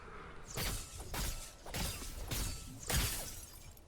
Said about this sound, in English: we're going to see what it sounds like hitting opponents with shield.